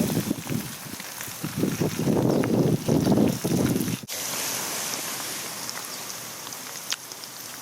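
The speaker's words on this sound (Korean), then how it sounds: "대나무가 음. 바람에 막 흔들리면서 바람소리가 막 많이 나." Spring wind blows through swaying bamboo outdoors, a broad rustling hiss that is busier and louder early on and then settles into a steadier, fainter whoosh, with brief voices mixed in.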